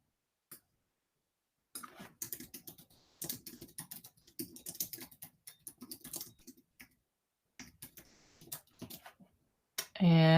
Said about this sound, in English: I'm going to type that right here.